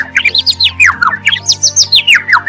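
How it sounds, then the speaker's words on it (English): Songbirds chirp loudly and close by in rapid, sweeping whistled phrases that repeat in quick bursts, over a low steady background hum. "birds chirping,"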